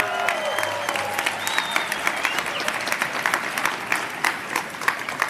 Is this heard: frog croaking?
no